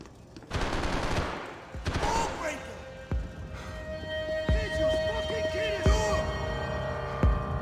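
Gunfire in Max Payne 3: sharp bursts and scattered single shots crack out over a low throbbing hum, spaced irregularly across the scene, with ambient rumble between them.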